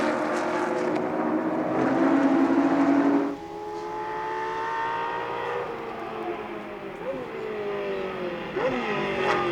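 Classic Shelby and Ferrari race cars with V12 engines roar past at Goodwood, one loud, steady engine note dropping away into several overlapping engine tones that rise and fall with gear changes.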